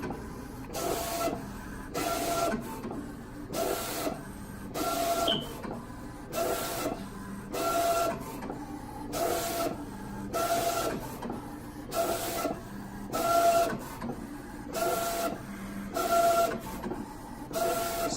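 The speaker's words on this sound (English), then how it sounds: "Now it's doing the contour cut." A Roland CJ-500 printer-cutter steadily contour-cutting stickers, its carriage making a repeating rhythmic whir and hiss in regular strokes, with faint high tones on some passes, running alone without talk.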